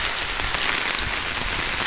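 Rain pours during a thunderstorm outdoors in an open place, a steady dense hiss of drops striking surfaces that holds at an even, fairly loud level throughout with no voices.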